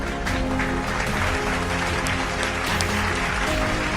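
A church congregation applauds steadily for the whole stretch, dense clapping with some voices mixed in, loud and close.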